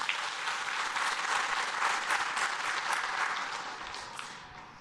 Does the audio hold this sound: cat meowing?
no